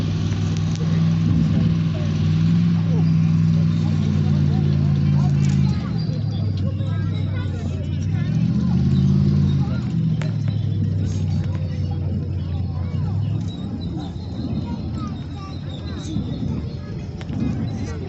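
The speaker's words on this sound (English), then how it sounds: "The Stuart's actually riding through the field kind of haphazardly to try to see if he can draw any German small arm fire" An M3 Stuart light tank rumbles across a field at a WWII reenactment, its engine droning low and steady and rising and falling as it moves, with crowd chatter and an announcer's voice over it.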